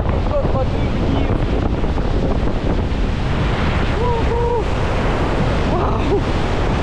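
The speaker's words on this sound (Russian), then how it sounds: "Смотрите, какой поток идет воды вниз." The rushing water of Iguazu Falls roars continuously beneath heavy helicopter wind buffeting, a broad steady wash with no pauses.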